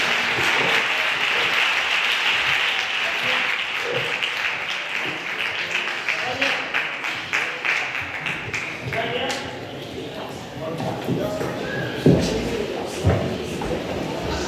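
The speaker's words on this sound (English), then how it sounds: "A round of applause, I'm sure this is very much overdue." An audience at a memorial lecture bursts into sustained applause, dense clapping that gradually thins toward the end, with a few louder knocks and shuffles near the close.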